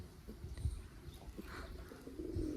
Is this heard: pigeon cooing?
yes